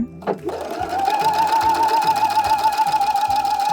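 Sewing machine running a steady straight stitch through fabric to shirr it, a fast even mechanical whir that starts after a brief click and carries on close and loud without pause.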